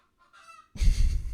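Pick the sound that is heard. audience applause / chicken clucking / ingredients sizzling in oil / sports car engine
chicken clucking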